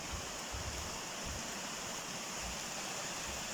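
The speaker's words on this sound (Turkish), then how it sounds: "Bakın burada bir kendilerinden oluşan mini bir şelale gibi." Steady rushing water from a small natural waterfall in a stream, a continuous broadband roar close to the listener with no voices.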